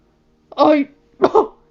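A voice imitates a cough with two short, throaty bursts separated by a brief pause, close and clear against silence, during a Game of Thrones fan-fiction audiobook reading.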